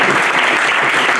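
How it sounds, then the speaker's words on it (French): Audience applause at a business growth event, a dense burst of clapping from a crowd, loud and steady throughout a brief moment with no voices. "On peut l'applaudir"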